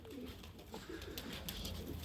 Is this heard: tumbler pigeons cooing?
yes